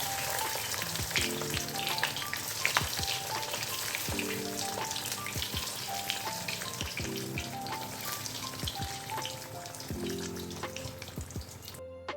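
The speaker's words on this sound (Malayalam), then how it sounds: "ഇപ്പോൾ ഇതാ നഗറ്റ്സ് ഒക്കെ ഒന്ന് ഫ്രൈ ചെയ്തെടുക്കട്ടെ" Chicken nuggets fry in hot oil with a steady, crackling sizzle that runs the whole time, while soft background music with a repeating melody plays underneath.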